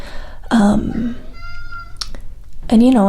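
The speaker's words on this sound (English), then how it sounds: "I don't know if you can hear that, it's my cat. She wants to come in" A pet cat meows to be let in: two loud, drawn-out meows near the start and end, with a softer squeak between, close by and mixed with someone speaking softly in an indoor room.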